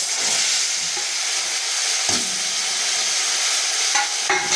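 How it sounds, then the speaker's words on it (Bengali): Ground kharkol leaf paste hits hot oil in a wok with a loud, continuous sizzle and hiss, and spoon scrapes and stirring clinks sound now and then across the whole stretch. "এবার আমি বেটে রাখা পাতাটা তেলের মধ্যে দিয়ে দেবো"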